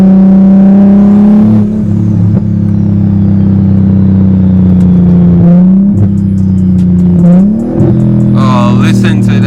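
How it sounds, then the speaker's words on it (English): A BMW M340i engine drones loudly from inside the cabin, holding a steady tone, then blipping and dropping pitch through downshifts with quick rev rises near the end, while a voice speaks over the engine at times. "Oh, listen to that downshift"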